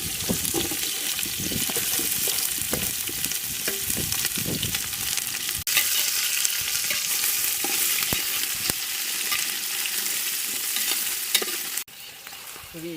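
Onion and chilli sizzle in hot oil with biryani masala for a village mushroom biryani, a steady loud frying hiss running throughout with repeated scraping stirs of a spoon against the pan and no voices.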